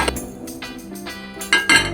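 A couple of close metallic clanks as a lid is set down on a pot of goat rendang, sharp and brief against a quiet kitchen background.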